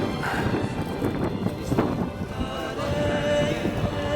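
Steady wind on a mountain summit rushes and buffets the microphone, a continuous rough roar with no pauses.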